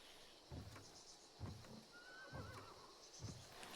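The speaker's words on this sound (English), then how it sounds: "So we just heard a horse whinny." A horse in the video game Hunt: Showdown 1896 gives a thin, wavering whinny at moderate distance, over a slow, regular thud of hoofbeats and steady background ambience.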